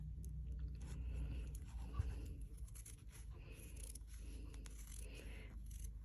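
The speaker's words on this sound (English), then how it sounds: "Clip it with these little scissors right next to the line." Small scissors snip fabric for applique repeatedly in quiet, crisp clicks and slicing sounds, close up, with soft handling noises between cuts.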